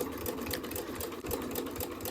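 A sewing machine runs steadily, stitching fabric for a door latch cover with a dense, even mechanical chatter that holds for the whole stretch, close and loud with no voices.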